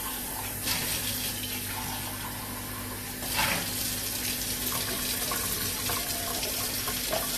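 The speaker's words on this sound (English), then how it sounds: "I might as well wash out my cup on here." Water runs from a tap as a cup is rinsed out, a steady close gushing splash with brief shifts in flow and clinks, over a faint steady hum, with no one speaking.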